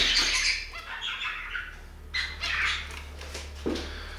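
Loud, harsh cockatiel squawks come in several bursts, close by, with brief quieter gaps and a low electrical hum underneath.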